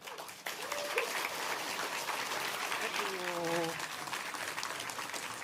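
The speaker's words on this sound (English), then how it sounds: "that's a perfectly acceptable level of applause from me" A theater audience at a children's book awards ceremony in Dublin applauds warmly to welcome the host, sustained clapping with a few whoops and voices rising through it.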